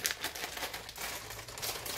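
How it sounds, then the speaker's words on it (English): A frozen bag of chopped spinach is squeezed and loosened by hand, giving close, continuous crinkling and crunching of plastic and icy pieces. "But I have the frozen bag. Just loosen that up."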